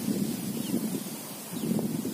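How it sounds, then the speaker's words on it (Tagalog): Wind blows steadily around a hut on a farm, a broad rushing roar that swells and eases in gusts, with a faint rustle of leaves and no voices. "Yan, yung hangin talaga"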